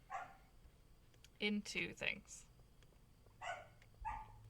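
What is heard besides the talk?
dog barking in the background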